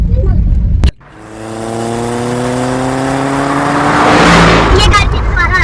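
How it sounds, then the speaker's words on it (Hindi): A Suzuki Cultus car rushes past on a main road in heavy rain, its engine rising into a drawn-out swelling whoosh after a sharp cutoff, loud and close. "पास से सुजुकी क्या नाम है, सुजुकी कल्टस शू करके गुजरी गाइस"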